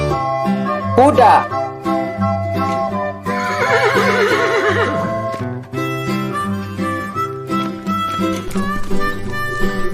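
A horse gives a loud whinny, then a longer quavering neigh over bouncy background music, with faint hoof clip-clops.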